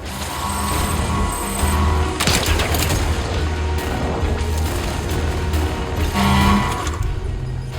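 Gunfire and impact booms from the video game Death Stranding Director's Cut, with bursts of shots and mechanical clatter repeating over a steady game soundscape, fairly loud throughout.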